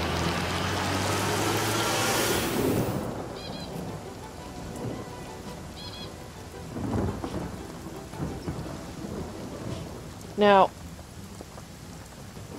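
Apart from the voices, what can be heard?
rain in the video game Divinity: Original Sin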